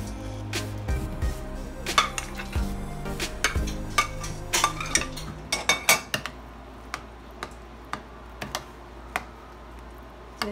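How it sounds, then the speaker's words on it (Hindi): Mashed potatoes being stirred together with powdered sugar in a bowl for aloo raita: close, irregular spoon clicks and light taps against the bowl, with soft scraping between them and a busier stretch in the first half. "ते चंगी तरह इहनूं मिक्स करांगे।"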